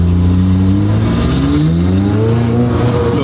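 A heavily modified Bentley Continental GT running an E85 map accelerates hard: a loud, close engine drone with its pitch climbing steadily and continuously, no talk over it.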